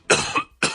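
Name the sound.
cough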